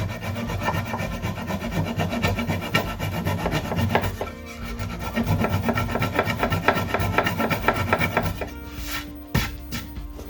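A hand saw trims wooden plugs almost flush on a mid-century dresser, giving a loud, close, rapid back-and-forth rasping that runs steadily for several seconds, then breaks into a few shorter strokes.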